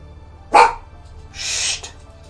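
A dog barks twice nearby, a sharp single bark followed by a longer, breathier bark about a second later, over a quiet background.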